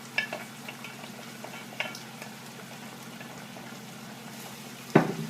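White wine and fresh garlic simmer in a pan, a soft steady bubbling sizzle close by, broken by a few light clinks and one sharp clatter near the end.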